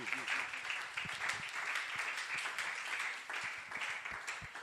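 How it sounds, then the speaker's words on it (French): A church congregation at a French-language seminar on the person of Jesus claps and cheers together in steady, dense applause, with voices calling out over the clapping throughout. "Est-ce que nous pouvons nous rasseoir et acclamer la parole de Dieu?"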